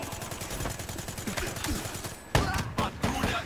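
Rapid bursts of video game gunfire in Call of Duty Black Ops 3 multiplayer crackle in quick succession, followed by a few louder, sharper shots near the end.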